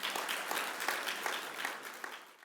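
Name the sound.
audience applause welcoming a speaker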